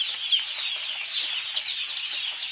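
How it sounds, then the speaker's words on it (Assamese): Young poultry chicks peep and chirp continuously while feeding in a pen, a dense, bright chorus of overlapping high calls at steady loudness with no voices. "পোৱালি জুম খাই আছেনে, ধুনীয়াকৈ খাই আছে"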